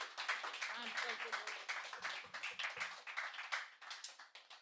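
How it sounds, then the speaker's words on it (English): Clapping from the audience at a closing session of a conversation on global organizing against toxic pollution, honoring four presenters; moderate, fairly steady clapping with scattered individual claps, fading slightly toward the end. "a huge hand of applause for all four of our"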